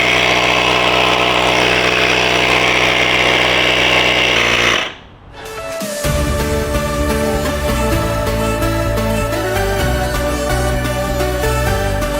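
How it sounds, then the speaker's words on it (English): An Inja electric air pump inflates an e-bike tire toward 17 PSI, giving a loud, steady mechanical drone that cuts out briefly midway and then resumes with a sharper, buzzing motor tone. "I'm gonna grab my handy dandy Inja air pumps here"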